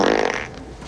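A comedic fart sound effect from a 1997 family movie: one loud, blaring, buzzy burst that trails off over about a second, heard on its own with no talk.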